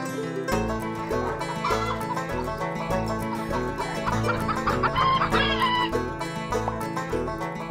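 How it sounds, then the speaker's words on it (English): Cartoon farm chicken clucking and crowing over bright children's music, continuous and loud throughout. "Hello, Clucky Chicken."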